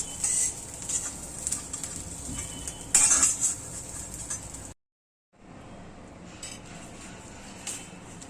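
Roasted niger seeds are scraped out of a pan into a vessel with metal utensils, making close clinks and scrapes and a brighter burst of clatter. A short silent gap follows, then fainter, quieter handling noise.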